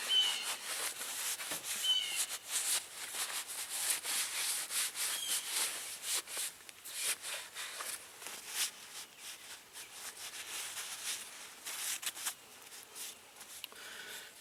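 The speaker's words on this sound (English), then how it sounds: "then I'll take a rag and just wipe it back off." A rag rubs and wipes linseed oil off a wooden axe handle, giving a steady close-up scraping, rustling friction that keeps on without pause and with no voices over it.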